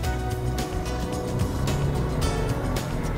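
A 2003 Audi A6 with a 3-litre engine runs steadily, a loud continuous drone with rhythmic pulses and no speech over it.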